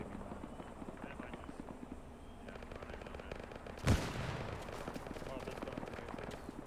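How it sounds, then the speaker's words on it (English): One sharp, loud gunshot cracks out midway through a video game firefight, over low background rumble and people talking. "we got green tracer fire on the other side"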